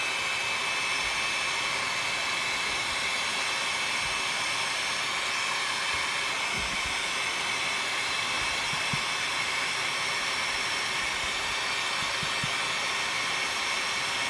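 A steady, loud rushing blast of hot air blows continuously, with faint clicks and handling knocks underneath.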